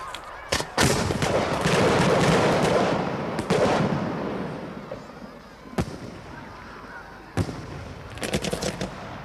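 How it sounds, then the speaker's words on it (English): A fireworks display in darkness at Kimbolton in 1977: sharp, loud bangs and crackling bursts, several spaced explosions with rumbling between, some near and some farther off. "We set the fireworks off in the darkness"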